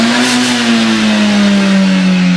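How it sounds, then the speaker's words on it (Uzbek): A stage-tuned car engine with its rev limiter removed, pushed to full throttle past 7,000 rpm, holds a loud, steady high-rpm roar whose pitch slowly sags, with no talk over it. "Mana men gazni ozgina bosib qo'yib, endi hozir to'liq bosamiz."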